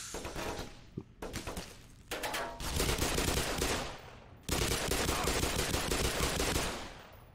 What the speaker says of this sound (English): Now I got to deal with actual people that are shooting at me.